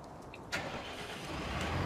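A tractor engine starts up in a farming game, a brief crank and catch settling into a steady, fairly quiet rumble.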